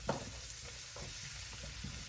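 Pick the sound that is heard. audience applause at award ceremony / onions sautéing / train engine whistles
onions sautéing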